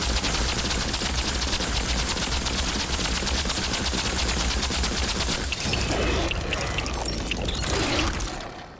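Rapid continuous gunfire from a single magazine emptied at a shooting range in the video game Remnant II, sustained automatic shots for over five seconds, then scattered impacts and trailing noise before stopping.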